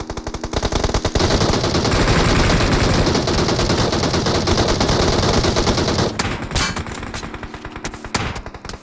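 Video game gunfire in a squad battle, loud sustained automatic bursts rattling close for about six seconds, then scattered shots and lighter clatter with no talk.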